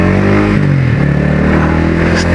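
A Yamaha XSR 155 cafe racer fitted with an R25 exhaust idles and revs nearby, its engine loud and steady with a deep throbbing exhaust note and a slight dip in pitch midway.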